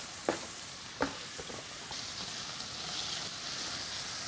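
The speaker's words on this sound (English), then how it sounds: "And frying with the onion." Steady, soft sizzling of onion frying in a pan, with a couple of light clicks and scrapes from stirring near the start.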